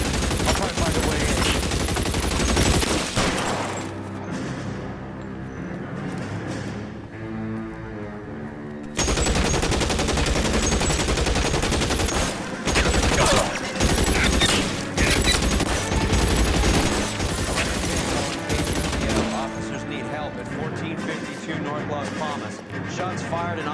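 Heavy gunfire in the LA Noire video game, a loud, dense exchange of rapid shots and bursts lasting over twenty seconds, with a brief lull partway through and voices talking amid the shooting.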